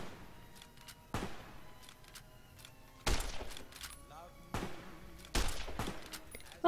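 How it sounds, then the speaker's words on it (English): Gunfire from a shootout in Fallout: New Vegas, with several sharp, loud shots and crashing bursts spaced irregularly over a low, steady background. "Oh wait, they're having a shootout."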